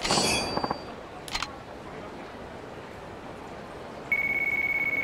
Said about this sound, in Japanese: ん？ 電話か。